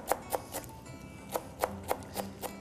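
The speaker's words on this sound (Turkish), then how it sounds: "dereotumuzu da ince ince doğrayalım" A knife chops fresh dill on a cutting board in crisp, separate taps, a few quick strokes, a short pause, then another run of evenly spaced cuts, close and fairly quiet.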